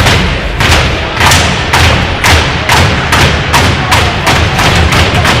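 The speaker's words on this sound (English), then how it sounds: "boys are banging their stick" Hockey players bang their sticks on the ice or boards at a youth game between Little Caesars and Florida Alliance, a loud run of about a dozen sharp thuds in a steady rhythm over a buzzing arena crowd.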